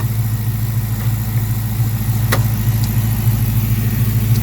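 A car whose transmission won't go into gear idles and creeps toward a shop with a steady, mid-pitched engine hum, close and fairly loud, and a brief click partway through.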